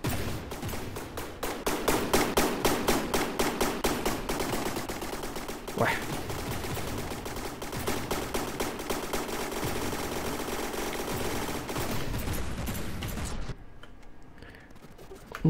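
Rapid, repeated flak cannon fire from a naval battle in the game From the Depths, a loud rattling burst of shots that runs steadily before cutting off abruptly near the end.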